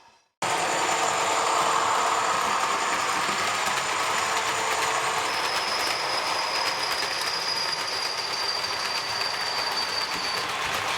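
A Bachmann Class 40 diesel model locomotive, number 40142, runs with DCC sound, giving a continuous loud engine drone with a whining tone and rail rumble throughout, with no talking.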